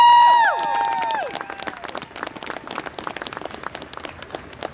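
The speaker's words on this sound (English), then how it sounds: "So give yourself a round of applause." An audience breaks into applause, a dense patter of many hands clapping steadily, following a brief opening chime of tones that fades out.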